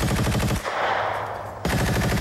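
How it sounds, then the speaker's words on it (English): A machine gun fires in rapid, loud close bursts, with a short pause filled by hiss before another sustained burst of fire. "Well, I can cut Bill Buckner down with this machine gun."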